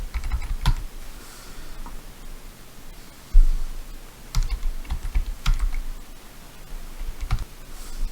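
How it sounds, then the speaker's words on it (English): Keys clatter on a computer keyboard as a business name is typed in, with scattered, close clicks of irregular rhythm over a faint hiss of background noise. "if I type in Connecticut Handyman Services"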